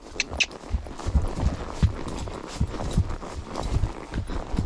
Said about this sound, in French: Voilà le trot de Lily